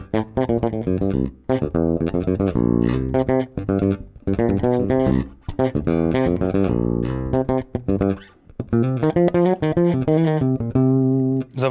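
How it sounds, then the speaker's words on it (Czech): A Blond JAB-1 electric guitar played through its bridge pickup alone with the tone control fully open gives a loud, dense, distorted run of chords and riffs with short breaks, continuing nearly nonstop and alone. "A samotný snímač u kobylky."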